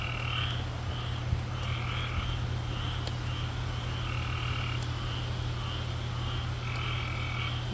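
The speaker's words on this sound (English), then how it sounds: "Y'all hear all those frogs?" Frogs croak outdoors during hurricane rain, a steady chorus of repeated calls pulsing over a constant wash of rain and low rumble, moderately loud and with no talking.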